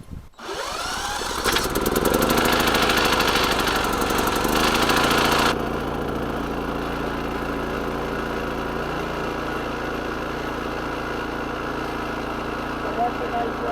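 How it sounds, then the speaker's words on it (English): An EDOG04 4000-watt inverter generator cranks and fires up close by, its engine roaring loudly for a few seconds before dropping to a steady, smooth idle hum; a voice talks briefly over it. "That's a nice running engine."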